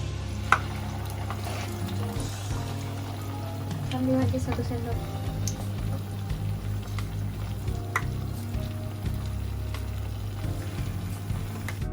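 Steady sizzling of battered dumplings frying in hot oil fills the clip, with a voice speaking briefly over it and occasional clinks of a utensil.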